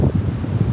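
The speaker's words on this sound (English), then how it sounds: "Try to get out of the wind here." Hurricane Laura wind in Lake Charles, Louisiana, buffeting a microphone outdoors: a short, gusty low-pitched roar with uneven thumps.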